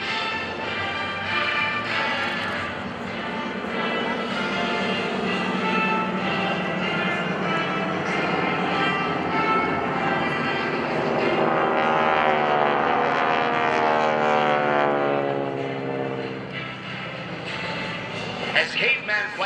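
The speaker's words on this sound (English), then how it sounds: "Caveman flight will roll in for a very unique high-angle strafe." A military jet at an airshow rolls into a high-angle strafe, a loud roaring whoosh that swells and sweeps past overhead, with an announcer talking over it.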